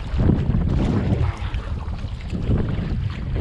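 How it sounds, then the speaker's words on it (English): Strong wind blasts across open water of Puget Sound while kayaking, a constant low microphone rumble swelling in gusts, with soft waves lapping beneath. "I gotta get close to the shore, it's too windy."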